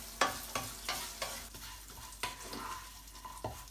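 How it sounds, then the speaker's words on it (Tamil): Cashew nuts frying in a pan for ven pongal, a soft sizzle under a regular rhythm of spoon scrapes and light taps, quiet and close with no talk. "முந்திரி பருப்பு வந்து கொஞ்சம் வறுபடட்டும்."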